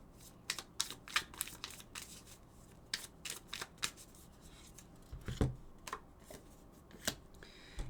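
Oracle cards are shuffled for a tarot reading, producing a rapid series of crisp riffling snaps and slaps at close range, in bursts with short pauses and no talking.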